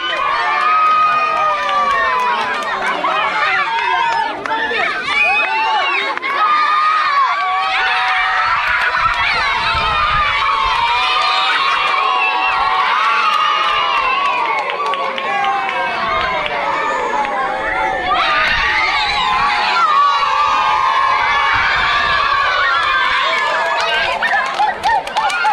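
Crowd of fans cheering at a competition on Pemba island, Zanzibar: dense, continuous shouting and excited chatter with rising yells, loud and sustained throughout.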